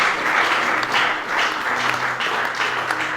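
A crowd applauds and cheers to encourage grandsons coming up to the front, a loud, continuous burst of many hands that pulses slightly in waves.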